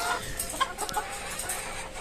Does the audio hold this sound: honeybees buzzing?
no